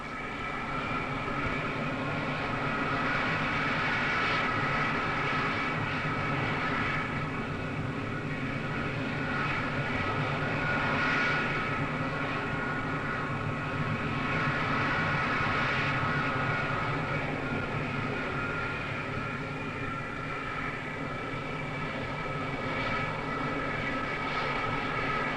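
Jet engines of the Concorde 002 supersonic airliner whining and roaring steadily as it taxis toward the runway before its first flight, a loud sustained drone with tonal hum that swells slightly and holds throughout.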